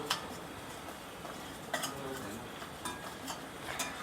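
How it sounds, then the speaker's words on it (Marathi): Spice masala for crispy poha chivda being sautéed in oil in a pan, with a steady soft frying hiss broken by several sharp spatula clicks and scrapes against the pan. "त्याच्यामध्ये आपण जो मसाला केलेला की तो घालून घ्यायचा पारी गॅस ठेवायचा आणि थोडासा मसाला असा परतून घ्यायचा"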